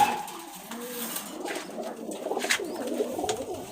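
Domestic pigeons kept in a home loft in Rajshahi coo softly and repeatedly at close range, with low rolling calls over light background noise and no talking.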